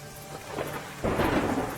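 Heavy monsoon rain pours steadily in Gujarat while thunder rolls, a deep rumble swelling midway and staying loud over the dense hiss of the downpour.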